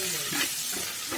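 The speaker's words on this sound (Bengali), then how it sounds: "এখন দিয়ে দেব টমেটো কুচি আর পেঁয়াজ কুচি।" Chopped tomato and onion frying with garlic in a pan for a Bengali mirga fish curry, giving a steady close sizzle broken by a few louder stirring scrapes, with no voices.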